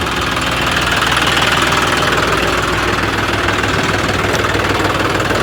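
A modified turbocharged John Deere tractor engine rumbles steadily and loudly at close range with a knocking, vibrating low-end throb and no voices.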